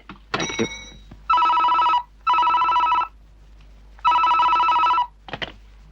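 Telephone bell rings in a Tamil movie scene: three loud, near, evenly spaced bursts of electronic ringing with short gaps between them, plus a few brief clicks and knocks at the start and end, no speech.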